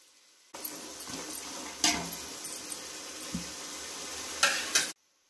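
Vegetables and peas sizzle steadily in a hot pan while a spoon scrapes and stirs them through a pulao base of fried tomato and onion, with several close clanks of metal on the pan.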